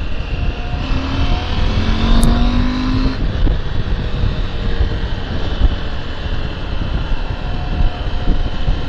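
Continuous roar of road traffic heard from inside a moving vehicle, with a vehicle rushing past early on, steady and loud throughout.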